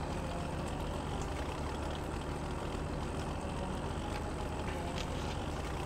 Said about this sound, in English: it's probably like one of the worst tractors to use for this because it's so damn loud.